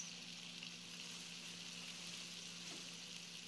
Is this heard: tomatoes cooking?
yes